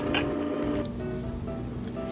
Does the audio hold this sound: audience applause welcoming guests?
no